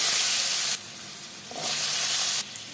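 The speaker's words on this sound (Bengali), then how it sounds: "আলুটা ভেজে তুলে নেব" Potato pieces fry in mustard oil in a pan, giving a loud, bright, hissing sizzle that swells and dips in two or three surges, heard close with no talking.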